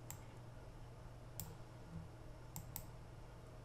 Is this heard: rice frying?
no